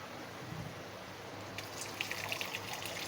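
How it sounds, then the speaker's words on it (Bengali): Water being poured into cooked, fried spice masala for a bottle gourd kofta curry, a steady trickling pour that grows a little busier toward the end, fairly soft and with no talk over it. "এখন দিয়ে দেব পরিমাণ মতো জল।"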